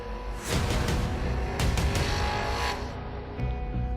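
Roaring race engines of a dragster and a door car launching side by side at Bristol Dragway, a loud surge with tire squeal that swells, then fades as the cars pull away.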